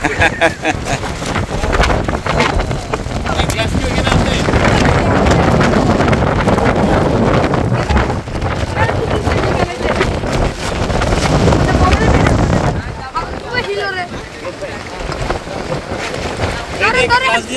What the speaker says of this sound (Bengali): হঠাৎ করেই এরকম ঝড় বৃষ্টি মুখোমুখি হতে হবে ভাবতে পারিনি আমরা